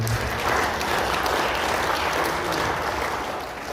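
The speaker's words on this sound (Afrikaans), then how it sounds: "Kom ons gee vir die Here aan 'n klap." A church congregation claps together in steady, dense applause that holds loud and even for several seconds, then thins slightly toward the end, with no speech over it.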